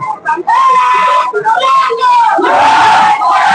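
A huge crowd of Maratha protesters at a Manoj Jarange Patil rally in Antarwali roars with loud, sustained shouting and chanting voices that swell and dip across the few seconds.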